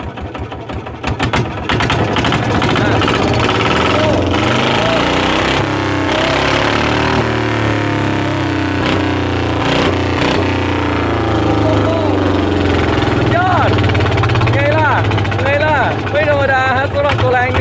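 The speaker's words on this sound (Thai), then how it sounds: "เร่งเครื่องให้ฟังหน่อย" A small paddy field tiller engine revs hard and steadily, loud and close, its rough drone rising and falling with throttle over the whole stretch.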